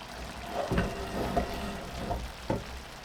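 Seafood and chorizo rice cooks in a pan, giving a quiet, low simmering crackle with a few soft knocks and bubbling pops.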